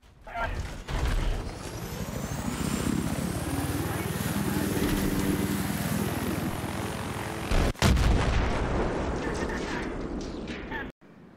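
Helicopter in the video game Battlefield 3 carrying C4: a loud, steady rotor-and-engine drone with a slowly wavering pitch, then a sharp blast and another abrupt bang near the end.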